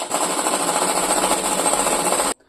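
A sewing machine stitches fabric for a skirt in one fast, continuous, loud mechanical rattle close by, cutting off abruptly just before the end.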